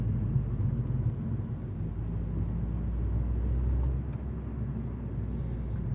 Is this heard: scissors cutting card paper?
no